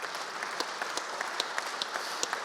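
Audience at the SJA British Sports Journalism Awards applauding, a dense sustained wash of many hands clapping with a few sharper claps standing out, fairly close and loud.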